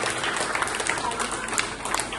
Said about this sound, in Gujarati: જોરદાર તાળી વગાડીશું।